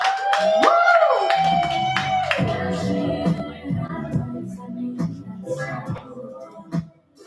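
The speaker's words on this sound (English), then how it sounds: "Let's give it up for Gabriella, y'all. Clap for Gabriella." Audience members at an open mic night clap for a performer, scattered claps and a few cheers under loud voices and music, thinning out toward the end.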